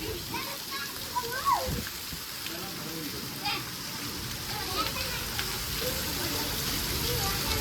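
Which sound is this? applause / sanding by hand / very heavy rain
very heavy rain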